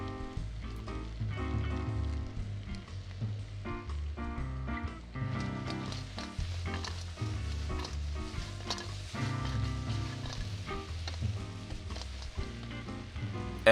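Crab stir-frying in a wok with soy sauce: a steady, moderately quiet sizzle and hiss with scattered light clatters, continuing without a break throughout.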